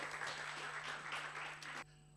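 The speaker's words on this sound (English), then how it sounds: "Let's give a big round of applause." Brief audience applause at a university library international conference welcome address, steady dense clapping that cuts off abruptly after about two seconds.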